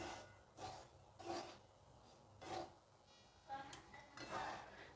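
Dry semolina being stirred in a pan over a low gas flame, giving soft intermittent scraping and rubbing strokes at a slow, irregular pace, close and fairly quiet.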